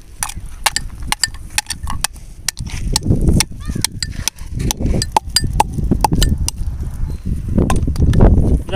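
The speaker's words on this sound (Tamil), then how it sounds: "அசோக மரப்பட்டை 3 துண்டு எடுத்து நல்லா இடிச்சுக்கோங்க." Ashoka tree bark being pounded in preparation for a herbal decoction, giving a series of sharp, irregular knocks and clinks, close and fairly loud, with no talk over them.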